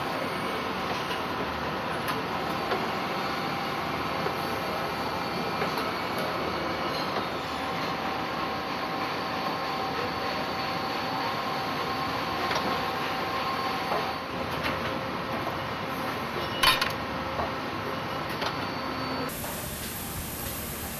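A factory machine turns metal tubing into a Yamaha trombone slide, producing a steady loud mechanical whir and drone with faint ticks throughout and a sudden tonal shift near the end.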